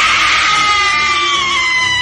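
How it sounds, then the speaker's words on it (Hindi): A witch, or female demon, in a Hindi horror story shrieks loudly and continuously, a piercing high scream that stays sustained for the whole stretch. "इतना कहकर वो जोर जोर से नीरज के कानों में चीखने चिल्लाने लगी"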